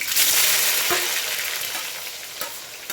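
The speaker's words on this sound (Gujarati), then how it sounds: "સ્વાદ અનુસાર પછી ડુંગળી નાખી દઈશું" Onions hit a hot pan with cinnamon leaves for a chana dal and fry with a loud, steady sizzle. A few scrapes of stirring break through, and nobody speaks.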